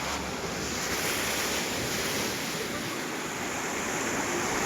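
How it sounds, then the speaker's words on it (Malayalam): Floodwater pours strongly across a road after heavy rain in Nenmara, Chathamangalam, giving a constant loud rushing roar mixed with wind buffeting the microphone. "ഭയങ്കര ശക്തമായിട്ടാണ് വെള്ളം ഒഴുകിക്കൊണ്ടിരിക്കുന്നത്."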